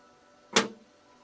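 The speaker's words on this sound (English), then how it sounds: "That's the sound of the drawers opening." A drawer slides open once in a quiet room, a single short, fairly loud scrape-and-thump against faint background hum.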